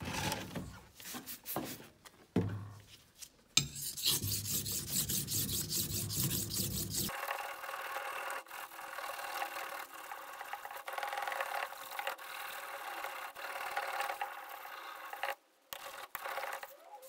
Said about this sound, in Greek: Τώρα πάμε να το δουλέψουμε στις πέτρες, να το κάνουμε να κόβει